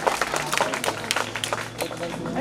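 Applause for three students at a school prize event in Bihar: steady crowd clapping with sharp individual claps, moderately close, under and alongside ongoing voices.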